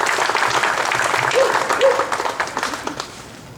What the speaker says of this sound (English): Let's give the speakers a round of applause who helped make this happen.